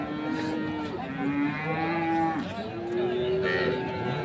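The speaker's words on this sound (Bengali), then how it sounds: "আমরা ওই পাশে আরেকটি গরু দেখছি।" A dairy cow lows repeatedly at Ambari cattle market in Dinajpur, sounding loud and near, with overlapping moos that rise and fall over a busy market background.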